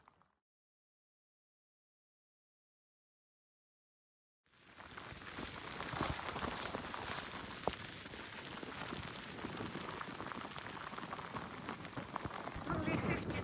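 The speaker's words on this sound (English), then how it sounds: "It's beautiful, it's raining now." Rain falls steadily outdoors in Scotland, a dense, close hiss of drops on surfaces that starts abruptly after several seconds of silence and then continues evenly.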